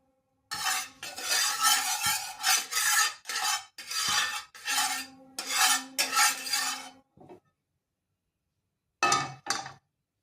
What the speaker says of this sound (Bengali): একটু তেল দিয়ে ওটাকে আমি নেড়ে নিচ্ছি।